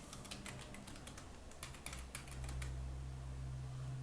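Keys on a computer keyboard clatter in quick bursts as an FTP password is typed, with a low steady hum underneath.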